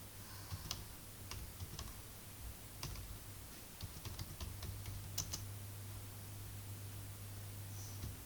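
Code is typed on a computer keyboard, with quiet, irregular key clicks in short bursts over a steady low hum and background hiss.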